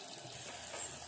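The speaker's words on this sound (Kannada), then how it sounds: "ಚೆನ್ನಾಗಿ ಬೆಂದಮೇಲೆ ನೀರು ಹಾಕ್ಕೊಳ್ಳಿ" About two glasses of heated water poured into a pan of cooked, fried tomatoes for plain rasam: a soft, steady splashing that stays faint and even throughout, with no voices.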